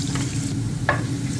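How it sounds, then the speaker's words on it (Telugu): Onions and ginger-garlic paste fry in hot oil in a pan, giving a steady, close sizzle with a short, brighter burst of spitting partway through. "ప్యాన్ పెట్టాను, ఆయిల్ వేసాను. ఇప్పుడు ఉల్లిపాయలు బాగా వేగిన తర్వాత అల్లం వెల్లుల్లి పేస్ట్ వేసుకోవాలి"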